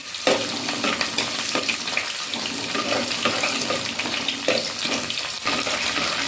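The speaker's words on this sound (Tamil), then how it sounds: "நல்லா வதக்கிக்கோங்க" Crushed garlic and slit green chillies sautéing in oil for a Tamil anchovy fish curry, giving a loud, close, steady hiss and crackle with occasional stirring scrapes and no voices.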